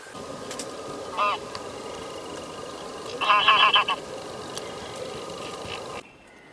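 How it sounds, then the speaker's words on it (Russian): Geese honk from a distance over outdoor background noise, a brief call first and then a louder cluster of honks a couple of seconds later. "Гуси прилетели."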